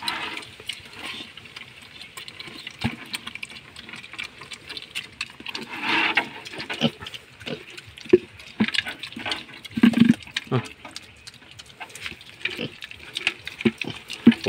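A hungry piglet eats noisily, with wet slurping, smacking and splashing sounds in quick, irregular bursts, close up, with faint background noise.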